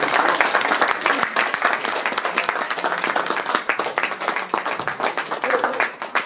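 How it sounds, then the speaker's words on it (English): A crowd applauds at a political fundraising event for a Democratic candidate for state delegate, with dense, loud, continuous clapping that lasts the whole stretch and swells and dips slightly. "Let's give Bhandari a really big, big round of applause."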